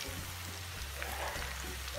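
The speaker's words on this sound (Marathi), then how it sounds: "चांगल्या पद्धतीने हे आपल्याला शेव तळून घ्यायचं आहे तेलामध्ये" Masala shev strands fry in hot oil with a dense, rain-like hiss and crackle that stays steady and moderately quiet. A low hum from a burner or fan runs underneath.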